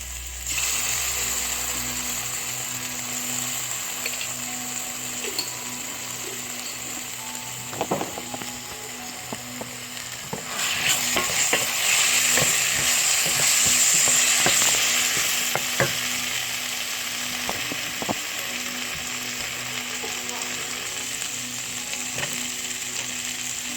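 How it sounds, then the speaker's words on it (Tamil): Ginger garlic paste and chili sizzling in a pan with onions for a brinjal curry, a steady frying hiss with scraping stirs and clinks, louder midway, no talking. "இப்போ இஞ்சி பூண்டு பேஸ்ட்டும் மிளகாவும் போடுப்போம்."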